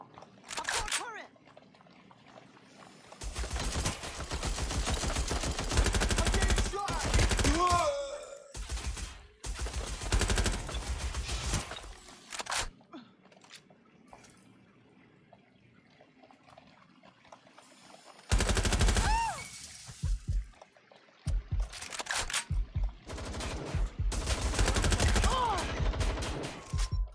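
Turret gunfire in the Watch Dogs Legion video game comes in several loud, dense bursts of rapid shots with pauses between them, mixed with game sound effects and occasional voices.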